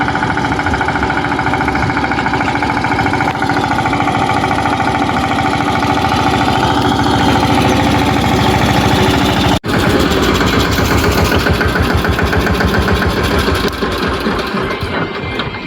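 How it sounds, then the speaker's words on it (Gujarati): A tractor engine runs at a steady idle beside a car with a flat tyre, a loud, close, rapid chugging rumble that continues throughout with a brief dropout near the middle, with no voices. "દક્ષિતભાઈ ટ્રેક્ટર લઈને આવી ગયા."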